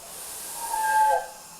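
Steam hisses from a standard steam locomotive's drain cocks, a steady broad rushing sound at moderate-to-faint level that swells slightly midway, with a thin whistling tone riding over it.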